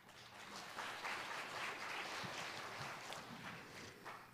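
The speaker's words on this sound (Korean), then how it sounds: "우리 성도들 격려와 환영에 박수해 주시기 바랍니다" Church congregation applauding during a Sunday worship service, steady sustained clapping from a crowd filling the hall for several seconds without speech.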